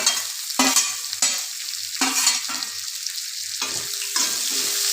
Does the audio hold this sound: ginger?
yes